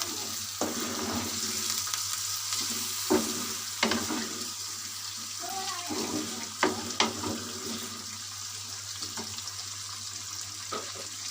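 Peshawari charsi chicken karahi sizzles steadily in a wok as fresh coriander is mixed through, with a constant frying hiss broken by scattered metal spoon clinks and scrapes.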